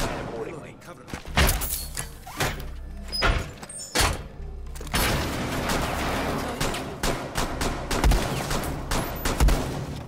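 Gunfire from a Rainbow Six Siege match, punched through a wall: sharp close bursts and single loud cracks early on, then sustained dense rattling fire, with talk over parts of it.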